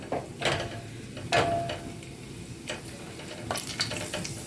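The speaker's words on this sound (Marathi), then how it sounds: "आता मम्मी त्याच्यामध्ये मनुके टाकले मनुके टाकले मम्मीने आता ते फुलून म्हणजे फुलेपर्यंत भाजून घेणार" Raisins frying in hot ghee for semolina sheera, a soft crackling sizzle broken by a few scraping stirs of a spoon in the pan, close and moderately quiet.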